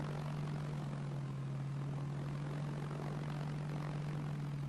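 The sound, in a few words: aeroplane engine after takeoff, from video game Arma 3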